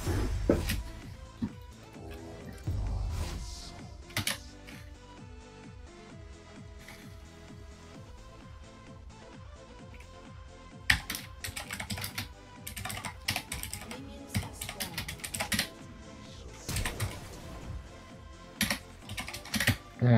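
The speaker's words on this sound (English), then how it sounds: "I was actually typing fucking rip." Typing on a computer keyboard at a desk, a steady stream of quick key clicks lasting the whole stretch with denser bursts of fast keystrokes, close and clear with no talk.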